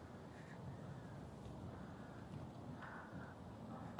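Crows cawing outdoors in Laos, a few faint, distant caws rising over a low, steady background hiss of open air.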